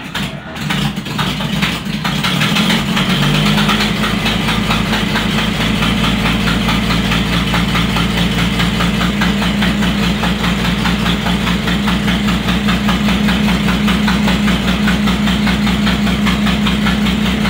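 A 1937 Packard's rough, steady engine idle rumbles continuously and loudly, with a raspy, sputtering edge from a leaking exhaust, after a brief revving start.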